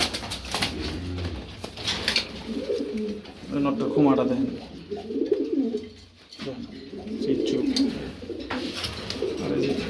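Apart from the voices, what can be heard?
racing pigeons cooing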